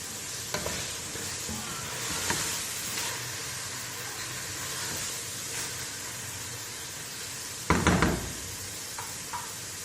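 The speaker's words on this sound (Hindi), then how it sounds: "अब बस थोड़ी देर हम लोग इसको तेज़ आंच पे थोड़ी सी भुनाई कर लेंगे" Carrots and mixed vegetables sauté over high heat in a pan, giving a continuous sizzle with stirring scrapes and a louder clatter near the end, no voices.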